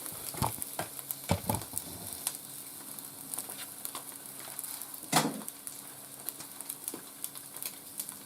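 Eggs fry in a pan for breakfast sandwiches, a steady close sizzle and crackle with scattered pops and occasional scraping stirs of a utensil against the pan.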